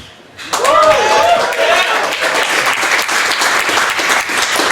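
Cheering audience at a startup pitch night breaks into loud, dense applause after a brief quiet start, with a whoop or whistle rising above the clapping early on before the sustained ovation carries on.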